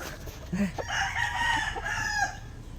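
A rooster crows once, a drawn-out rising and falling call, somewhat distant, over faint background noise.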